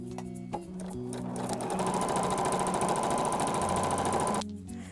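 A sewing machine back stitches fabric for a laptop skin, running in one loud, steady, close-up burst of about four seconds.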